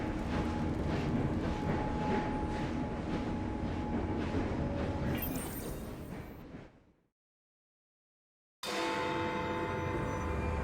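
A train runs in the video game Assassin's Creed Syndicate: a steady, loud rumbling roar that fades to silence for a couple of seconds, then resumes at full strength.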